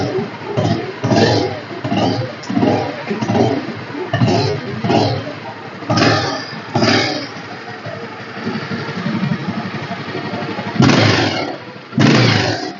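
A 200cc motorcycle engine runs and revs close by, rising and falling in repeated loud surges, with two sharp, strong bursts of throttle near the end.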